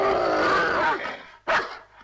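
Dog barking and growling in a television drama scene, a loud close snarling bark that trails off, then a sharp single bark after a short pause.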